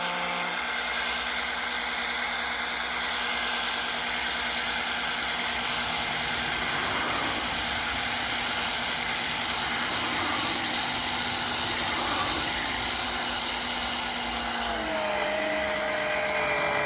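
An oil extraction pump drawing oil from the sump of a Bentley W12 Flying Spur, a steady loud mechanical whine and hum running throughout, with a shift in pitch near the end.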